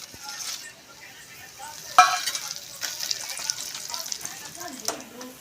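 Whole spices dropped into hot oil give a soft, crackling sizzle with scattered pops and a clatter of a utensil against the pan, while a person talks over the cooking.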